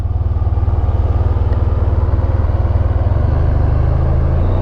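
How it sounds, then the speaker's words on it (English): A loud, steady engine drones with a rapid, even rumble throughout, like a small motor running nearby at constant speed. "Oh, I can hear the engine."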